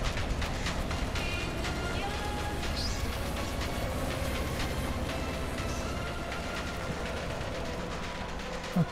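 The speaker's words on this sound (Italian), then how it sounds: "Arriva un altro treno, eh." A train rolls in within the video game Atomic Heart, a steady rumbling, clattering rail noise that runs continuously at fairly low level, with faint mechanical clicks over it.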